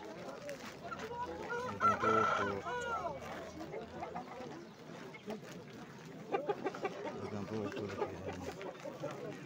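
Chickens cluck and a rooster crows at the Nookat poultry bazaar, amid a crowded, busy market scene. The clucking comes in bursts, with people talking nearby throughout.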